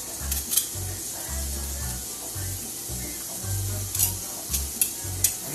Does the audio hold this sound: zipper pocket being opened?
no